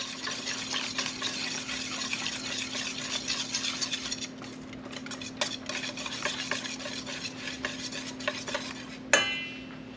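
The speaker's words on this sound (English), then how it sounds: "we whisk to combine as usual" Zucchini fritter batter is whisked in a bowl, a steady close scraping and tapping that runs unbroken for several seconds, with a sharper clink near the end.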